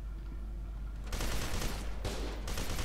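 In the video game F.E.A.R. 2, gunfire against soldiers breaks out after a quiet second: a loud, sustained automatic burst with a brief dip near the end, with no voices.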